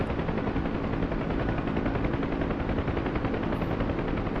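A Kiowa helicopter flies overhead in a military video game, its steady rapid rotor chop pulsing loudly and evenly throughout with no break.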